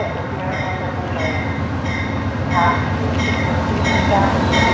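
Amtrak Northeast Regional train idling at a station in Alexandria, Virginia, a steady loud rumble of engine and rail noise with periodic high chimes or tones, while a station announcement plays over it.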